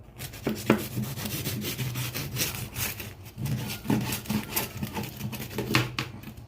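Steady rasping sawing strokes of a serrated cake knife cutting through a syrup-soaked layered pastry cake, close up, with a repeating back-and-forth rhythm and no talking.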